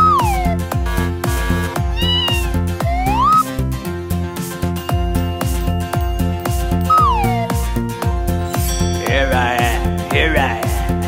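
A cat's meows rise and fall inside a children's Halloween skeleton song, repeated several times over bright, steady backing music.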